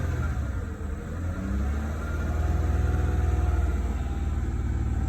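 A 2002 Jaguar XF engine, kept running with the gas pedal pressed while it has trouble starting, gives a steady low rumble and hum that swells slightly partway through, close by and without voices.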